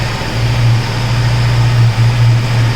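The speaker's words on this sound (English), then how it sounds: "See, the engine is warm enough, and I'm cranking the engine on." A KTM Duke 250 BS6 motorcycle engine idles steadily and close by, a warm, low, even throb that runs through the whole stretch with no talk over it.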